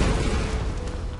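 A loud explosion in the video game Tomb Raider (2013), a dense low boom with rumbling debris that stays heavy through the whole short burst.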